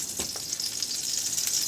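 An egg frying in a pan, giving a steady, bright sizzle with light crackles, close and continuous for a short moment.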